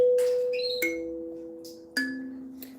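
Sparse plucked metallic kalimba tines ring out one at a time, each note sustaining and slowly fading in a quiet room, with a soft bird chirp in between.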